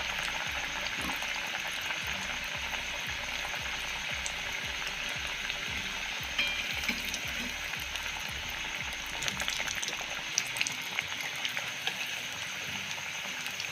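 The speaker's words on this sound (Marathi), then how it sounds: "आता आपण ह्याच्यामध्ये खारी सोडून घेऊ. लय पण तेल गरम होऊ द्यायचं नाही आहे" Khari pastries fry gently in moderately hot oil on a low flame, producing a faint, steady hissing bubble that runs without a break.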